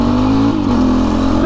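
A BHR 300 R Enduro motocross bike engine drones steadily up close, a strong mid-pitched tone with a brief dip midway before settling back to an even, loud idle-like rumble.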